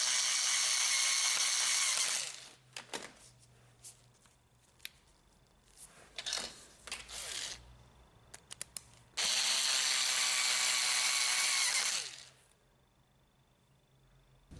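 A power screwdriver drives two screws into the metal plate of a Panasonic printer drum, with two long steady whirring runs of a few seconds each. Between them come softer clicks, handling knocks and shuffling of parts.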